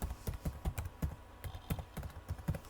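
A password is typed on a Windows PC's computer keyboard: a quiet, close run of quick, uneven key clicks in short bursts, with no talking.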